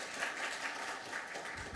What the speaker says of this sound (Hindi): एक बार जोरदार तालियां आप लोग बजा दीजिए।